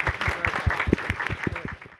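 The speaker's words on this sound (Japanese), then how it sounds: "改めて戸田市の皆様に拍手を送りたいと思います" Brief applause from an audience at a GovTech Tokyo co-creation meetup, sparse individual claps standing out over a thin murmur and fading toward the end.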